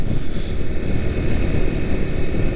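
Honda Cross Cub 110 motorcycle riding on a cold mountain road in Wakayama, a steady loud engine drone blended with wind rush, continuous and close throughout with no talk.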